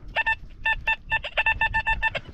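A metal detector sweeping a field near the site of an old inn gives a string of sharp electronic tone beeps in quick irregular bursts, loud and close, while hunting for coins.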